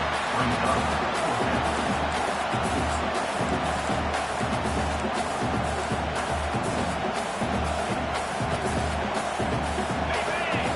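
Football stadium crowd roaring to back the defense during a game against Florida, a steady wall of cheering and noise held at constant loudness throughout, with an announcer talking over it.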